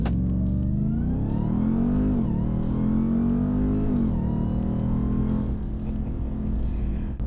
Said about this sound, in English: I'm going to stop here for a quick acceleration.